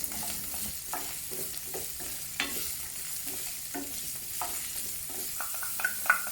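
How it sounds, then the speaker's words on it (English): Onions sautéing in melted ghee in a pan for a Madras chicken curry, a soft steady sizzle under repeated scraping stirs from a utensil, close and fairly quiet. "When the oil is melted, add the onions and saute over medium heat."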